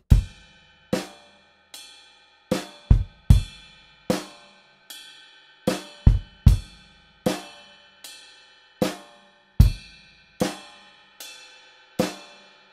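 Drum kit playing the grooves of bars 46 to 49 in a song, crisp hits with cymbal wash in a steady rhythmic pattern, played alone and fairly quiet, with no talking.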